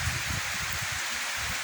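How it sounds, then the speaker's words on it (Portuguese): Torrential rain pours down in Lawrenceville, Georgia, among many trees: a steady, dense hiss of falling water with low rumbling underneath, continuous and even throughout. "Chuva torrencial aqui em Lawrenceville, na Geórgia, Estados Unidos da América, dia 27 de junho de 2022,"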